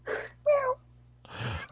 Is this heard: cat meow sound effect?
yes